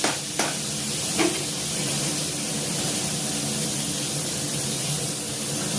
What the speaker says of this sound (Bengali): দেখো শিম আলুটা একটু লাল করে ভাজবো